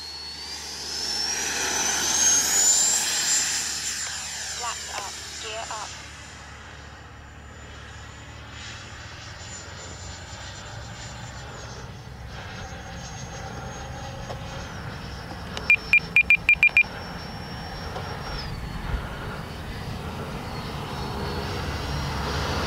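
An FMS Integral 80mm RC jet flies overhead, its turbine whine surging loud and close, then fading into a steady distant drone, with a few sharp clicks near the end.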